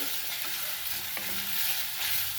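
Onion frying in oil in a kadhai with a few curry leaves, a steady close sizzle with faint scraping of a spoon stirring through it, no voices.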